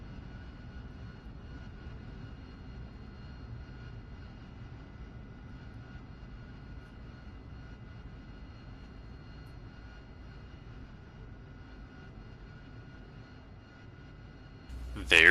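AV-8B Harrier jet engine at idle in the DCS flight simulator: a quieter, steady whine and rumble held evenly, rising in a brief louder burst right at the end.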